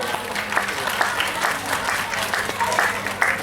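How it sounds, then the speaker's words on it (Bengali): An audience at a yoga annual event in a hall applauds during a prize ceremony, with a steady spread of claps and faint voices mixed in. "সকলে জোরে একটু হাততালি দেবেন"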